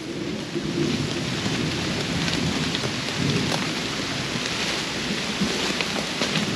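Thunderstorm at an abandoned plantation house: heavy, steady rain hissing on surfaces, with a deep rolling rumble of distant thunder underneath throughout.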